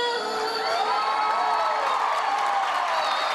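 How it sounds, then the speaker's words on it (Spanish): A theater audience cheers and whoops in a standing ovation for a group of child mariachi musicians, a loud, sustained roar of voices with scattered shouts and clapping that holds steady throughout. "el público se enamoró premiándolos con una gran ovación de pie"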